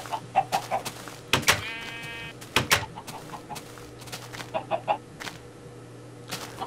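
Sheep bleating in a Minecraft-style survival game, a few short calls among clicky game effects over a steady low background hum, with no talking.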